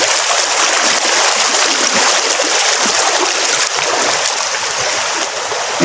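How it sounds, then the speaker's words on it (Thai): Water in a small creek being dammed for fishing rushes loudly and steadily nearby, a constant close wash of flowing water with no pauses. "น้ำมันจะไหลเข้ามาตรงนั้นนิดหนึ่งนะครับ"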